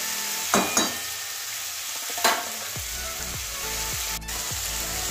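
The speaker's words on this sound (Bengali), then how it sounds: "ধুয়ে রাখা সয়াবিনটা দিয়ে দিচ্ছি। এটা 2-1 মিনিট কষিয়ে নেব" Washed soybean chunks sautéing in a pan give a steady close sizzle, with a few scraping stirs early on, then soft repeated thumps of the spatula against the pan in the second half.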